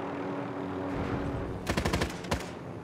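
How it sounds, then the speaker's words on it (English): Gunfire in the Warzone video game: a soft rumble builds, then a rapid burst of automatic shots rattles out near and loud, followed after a short pause by a couple more sharp cracks. "He's shooting at someone."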